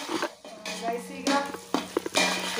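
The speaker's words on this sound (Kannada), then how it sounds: "ನೀವು ನೋಡ್ಬೋದು ಈರುಳ್ಳಿ ಚೆನ್ನಾಗಿ ಫ್ರೈ ಆಗಿದೆ." Onions fry in a pan for a large chicken biryani, salted so they soften fast, giving a close, crackling sizzle broken by brisk spatula stirs and scrapes, with no talk.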